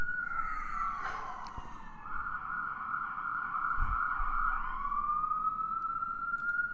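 A passing ambulance sounds its siren in a sustained, gliding wail that sweeps up and down, moderately distant and heard alone with no talk.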